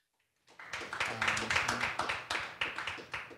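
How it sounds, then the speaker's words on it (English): A small group applauds panelists at the close of a panel discussion, a brief burst of fairly close, rhythmic hand claps that begins after a short silence and stays steady. "maybe a round of applause there for them"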